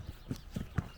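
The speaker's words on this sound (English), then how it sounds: "Always give your horses a chance to be a horse. Turn them out. Let them roll around." A horse moves about loose in a ranch turnout, its hooves landing in a few distinct thuds and clops spaced roughly a quarter second apart, fairly close and moderately loud.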